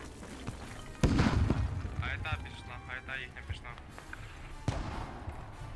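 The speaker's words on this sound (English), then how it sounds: "Rockets coming out. First explosion's coming out." Rocket and artillery explosions in the video game Squad: a sharp loud blast followed by rumbling booms and a second impact later, under commentators talking over the match.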